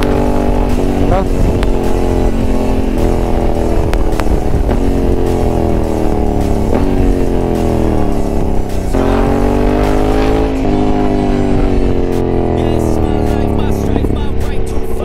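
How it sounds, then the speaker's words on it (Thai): Honda NT1100 motorcycle engine heard up close while downshifting, loud and continuous with revs rising and falling through several gear changes and a rough, throbbing exhaust, joined by other machines passing in the background. "NT นี่เวลาเชนเกียร์ลงนี่แม่งดังตั้มตั้มตั้มเลยนะ"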